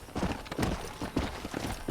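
Horse hooves clip-clop at a steady trotting rhythm in the Red Dead Redemption video game, close and fairly loud, with faint game ambience behind.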